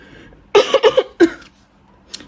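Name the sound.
dry cough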